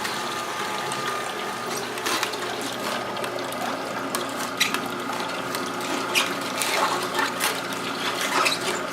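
A slow masticating juicer grinds and crushes vegetables, a steady close mechanical whir with a ratcheting, clicking texture and small irregular cracks throughout, with no talking.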